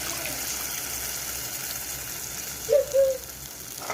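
Tamarind water is poured into a hot pan for fish curry, giving a steady rushing, sizzling hiss with a couple of brief bubbling blips near the end.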